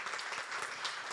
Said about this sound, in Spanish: un aplauso para todo este equipo que lo hace posible